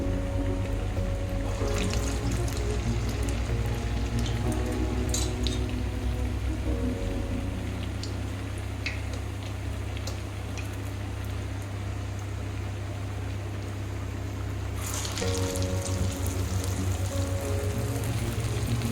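Ash gourd vadas fry in hot oil with a steady, close crackling sizzle that carries on throughout, swelling slightly near the end, with no talking.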